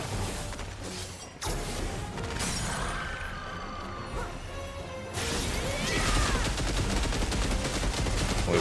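Gunfire and crashing impacts in the video game Final Fantasy XVI, loud bursts and smashing effects with abrupt cuts and a busy rattling stretch near the end, no talking.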